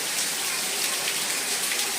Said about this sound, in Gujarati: હજી કન્ટિન્યુઅસ વરસાદ ચાલુ જ છે અત્યારે